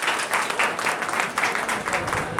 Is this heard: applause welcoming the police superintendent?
yes